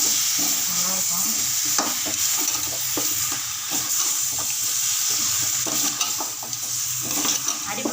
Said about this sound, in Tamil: அடி பிடிக்காமல் கிண்டி விடுங்க.